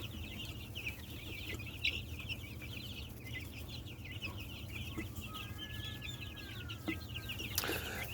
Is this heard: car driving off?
no